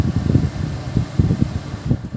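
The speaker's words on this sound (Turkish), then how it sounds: "Klimayı da şu tuşlardan açıp kapatabiliyorsunuz." Air conditioning fan in a 2011 Kia Ceed SW 1.6 CRDI estate car blowing steadily inside the cabin, a low continuous whoosh with slight fluttering pulses, close to the microphone and without speech.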